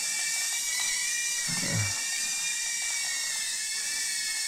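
A Fast Lane RC FLX Nano drone flies nearby, its tiny rotors giving a constant high-pitched buzzing whine throughout, with a brief low thump partway through.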